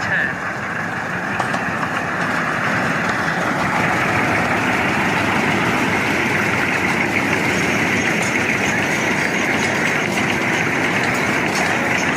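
A steady engine rumble and mechanical clatter of a small tourist train rolling along, continuous and fairly loud, with people talking faintly in the background.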